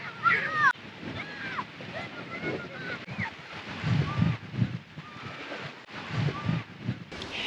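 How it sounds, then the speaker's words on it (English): Wind buffets a microphone over choppy water slapping and splashing nearby at a campground on the St. Lawrence, gusty and uneven throughout. "The water's a lot more choppy and it's windy on this side."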